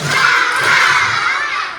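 A group of children at a school session erupts together in loud, high-pitched laughing shouts, a lively burst of young voices that holds briefly before trailing off.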